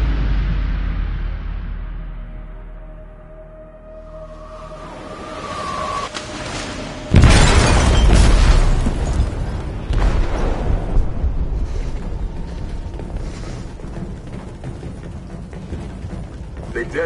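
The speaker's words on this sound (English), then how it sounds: "They detonated an explosive in the hold." An explosive detonates in a ship's hold in Detroit: Become Human, a sudden loud blast after a quiet build-up, then a heavy rumbling roar and debris that slowly fades, with a second thump shortly after.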